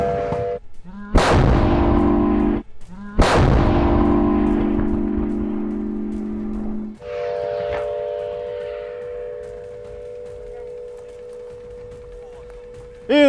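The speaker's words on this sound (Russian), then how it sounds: "Делаем пристрелочный выстрел." An artillery ranging shot is fired, with two sharp, booming blasts about two seconds apart, each followed by a long ringing mechanical hum. Later a steady engine-like drone shifts in pitch and holds to the end, loud and close.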